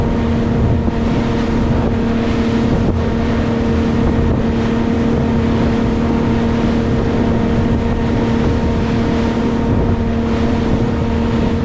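A fishing boat heading out toward the Great Barrier Reef, its engine producing a loud, steady drone with a constant tonal hum, mixed with wind and water rush and no talking.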